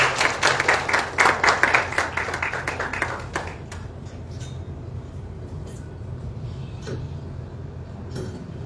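Audience clapping breaks out at an independence celebration event in Dakar, a dense burst of claps for about three seconds that then thins and fades into the room's background murmur.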